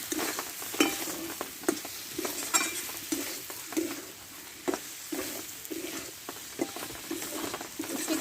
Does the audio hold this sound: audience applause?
no